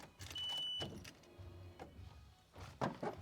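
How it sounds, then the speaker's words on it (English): A Nissan 240SX has its ignition key cycled while it fails to start, giving brief clicks, a short whirring buzz and a few key and switch sounds, close and quiet. "The car doesn't like to start. He said cycle the key 3 times."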